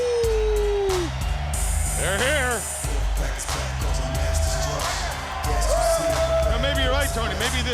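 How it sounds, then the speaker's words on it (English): The wolf howl of the nWo Wolfpack wrestling entrance rises and wavers several times, loud over a crowd in a WCW arena, with commentators talking through it. "the haunting howl of the Wolfpack"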